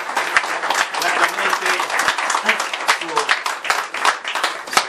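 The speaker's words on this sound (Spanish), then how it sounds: "Unos aplausos, pues, queridos." Steady applause from an audience at a patron saint Santiago handover ceremony, dense and sustained throughout, with scattered voices mixed in.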